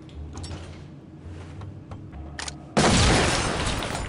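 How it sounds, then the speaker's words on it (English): A sting grenade going off in SWAT 4: after quiet movement and a few small clicks, a sudden loud burst erupts and lingers as a broad, sustained roar. "Sure, throw a sting grenade while you're at it. Stinger going out."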